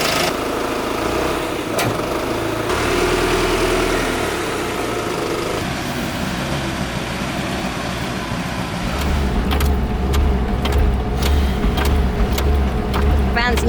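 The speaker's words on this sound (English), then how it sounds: "Van's normally bumpy to drive, but this is something else." Van driving over a very rough, bumpy road, with steady engine drone and road rumble throughout, louder low thumping and rattles in the later part, and faint voices in the background.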